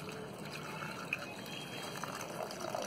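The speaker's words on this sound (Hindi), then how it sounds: "पानी इस तरह ऐड करेंगे दोस्तों कि ये अच्छी तरह डूब जाए" Water poured into a container of banana peel cuttings for fertilizer, a soft steady trickle and fill sound, fairly faint and close, with no talk.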